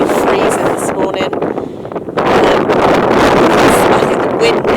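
Strong wind buffeting a freezing Lake District hillside near a wild campsite, loud gusty roaring that drops briefly then surges back, with no talk.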